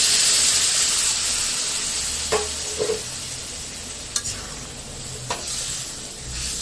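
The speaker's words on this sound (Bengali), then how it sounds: "এখন ভিতরে দিয়ে দেবো জল।" Water poured onto pangas fish frying in a hot pan brings a burst of bubbling sizzle, with a few sharp clinks of utensil against the pan over a steady hiss.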